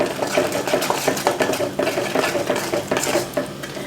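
A spoon working through creamy pal pongal with a pinch of ghee in a pot, giving quick rhythmic scraping and clinking strokes, close and fairly loud throughout.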